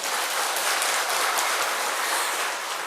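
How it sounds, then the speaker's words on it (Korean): A church congregation applauds in a sanctuary with loud, full, sustained clapping from many hands that holds steady for the whole stretch, with no talking over it. "다시 영광의 박수를 올립시다."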